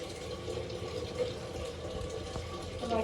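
A tumbler of water is poured into a crushed curry leaf mixture for buttermilk, making a steady close splashing pour that runs throughout.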